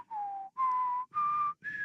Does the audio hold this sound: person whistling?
yes